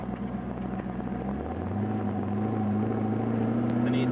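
A twin turbo LS1 V8 swapped into a Mazda RX7 FD idles steadily and loudly up close, a deep continuous hum whose pitch rises slightly partway through, with no voices over it.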